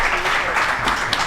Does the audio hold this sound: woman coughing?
no